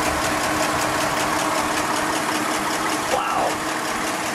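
A 1938 Packard Super Eight sedan with Sedanca deVille coachwork by Barker idles in a steady, even hum with a faint mechanical tick, unchanging throughout.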